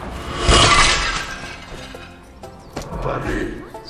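Glass shatters loudly and close in Goat Simulator 3 as objects are smashed, one bright crash followed by tinkling debris and a smaller second break, with speech over it.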